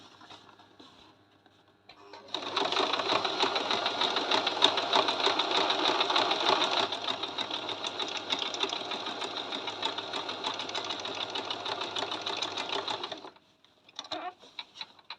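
A sewing machine stitching on a zigzag setting, used for Ankara patchwork, runs in a fast, steady mechanical whir with rapid needle clatter for about eleven seconds, then stops, followed by a few brief handling clicks.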